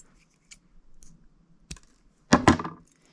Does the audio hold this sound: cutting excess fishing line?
yes